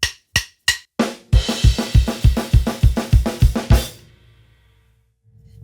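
Four count-in clicks, then a fast up thrash beat on a drum kit with kick and snare alternating, snare on the upbeat, in a steady driving rhythm and ringing cymbals, ending abruptly.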